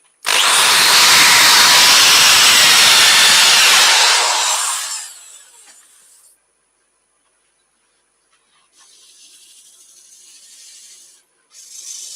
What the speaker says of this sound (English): Let's give that another quick sand.